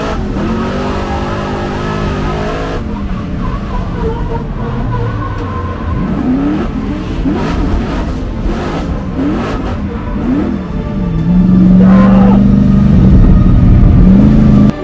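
Rallycross race cars at speed on the Croix-en-Ternois circuit, loud engines revving and shifting close by, with gear changes and rising acceleration and a louder pass toward the end.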